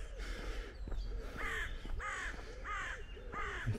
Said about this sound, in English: And plenty of birds out.